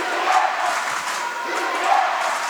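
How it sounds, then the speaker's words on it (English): Crowd at a 2018 World Basketball Championship game between Italy and Turkey cheering and roaring, a steady broad wash of many voices that swells slightly louder in places. "Crowd getting a little louder now."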